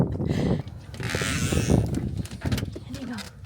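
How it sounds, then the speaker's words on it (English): Farm geese honking and calling in fresh snow on a wintry farm, a loose run of nasal calls mixed with bird chatter, close by, with a person talking over them. "let's go check out the geese"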